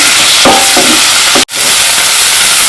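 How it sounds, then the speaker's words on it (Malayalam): Chopped tomatoes sautéing in a pan for Kerala-style okra coconut curry: a loud, close, continuous sizzle with a few stirring scrapes and a brief sharp dropout midway. "ഈ തക്കാളി ഒന്ന് വെന്തുടയുന്നവരെ നമുക്ക് ഇതൊന്നും കൂടി ഒന്ന് വഴറ്റി കൊടുക്കാം"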